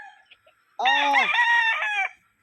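A purebred Boston gamecock gives one loud, close crow lasting over a second, rising and holding before cutting off, with faint background sounds before it.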